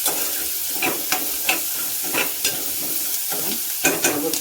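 Chopped yellow cauliflower stir-fried in a pan over onion, a soft continuous sizzle with scattered scraping stirs of a spoon against the pan, moderately close and with no talking.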